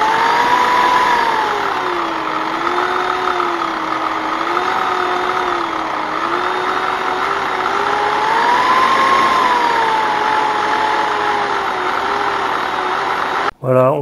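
A drill press motor with a broken speed controller runs at its minimum speed, giving a steady loud whine whose pitch wavers slightly, with a brief knock near the end.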